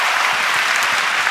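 A church congregation claps together during a sermon at a Korean church, a dense, loud and steady burst of applause that fills the whole moment with no voices over it.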